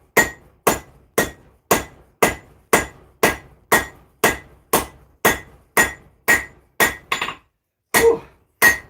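A hammer forges a mini Zangetsu sword handle from Bleach, ringing out in a steady run of sharp, loud metallic blows about every half second, with a brief pause near the end before the strikes resume.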